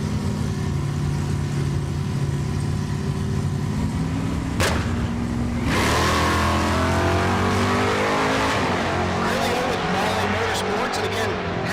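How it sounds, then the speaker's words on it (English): A 1970s Chevrolet Nova drag car launches at a dragstrip during a race-week event, the engine idling and then roaring into a loud, rising run down the strip, with other racing noise around it. "That's Tom Taylor in the left lane, the Nova."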